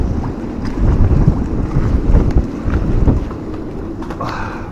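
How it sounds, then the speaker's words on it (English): Strong wind buffeting the microphone on a boat in a loud, continuous roar, with faint rattling and knocking sounds mixed in. "But it's super windy and everything's rattling about."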